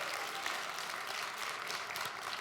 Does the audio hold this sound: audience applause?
yes